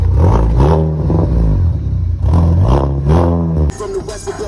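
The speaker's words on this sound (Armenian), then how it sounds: "եկել ձենը լսենք, ներկու հատ գազ տուր էլի" A Lada Niva engine being revved several times in a row, loud and close, each rise in pitch followed by a drop back, with a brief voice heard near the end.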